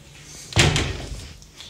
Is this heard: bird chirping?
no